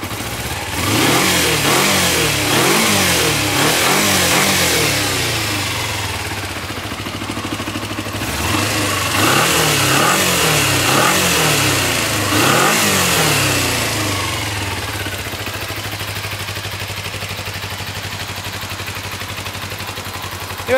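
A 2002 Kawasaki Ninja 250R motorcycle with stock exhaust and mufflers revs repeatedly in loud, rising and falling bursts, then settles into a steady idle, close up with no talking.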